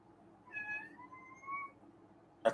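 A cat meows twice in drawn-out, wavering calls, moderately close and fairly soft, with a brief sharp noise at the end.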